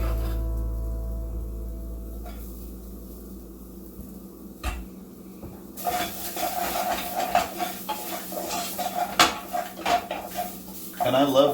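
Garlic hits a hot pan over turned-down heat after onions, bursting into a loud, crackling sizzle with hissing steam and clattering utensil scrapes, close up, following a few quieter seconds.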